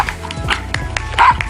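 A small dog with tiny teeth barks rapidly at a lion, sharp yappy barks in quick succession, loud and close.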